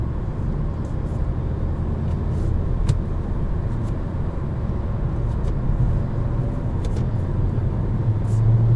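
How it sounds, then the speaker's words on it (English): Kia Seltos car driving and accelerating, with a steady, moderately quiet engine and road drone heard from inside the cabin, with a few faint clicks and no clear voices. "Downshifts are done very smoothly and very quickly. This thing pulls really, really well."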